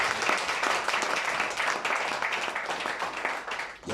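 Dense applause fills a church service, steady and loud throughout, a congregation clapping together with no clear break.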